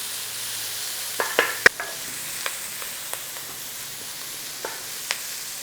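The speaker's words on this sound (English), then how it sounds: "Just cook out a little bit of that rawness of those onions." Onions cooking gently in a pan over moderate heat, a soft steady sizzle with a few sharp scrapes and taps of a utensil stirring them.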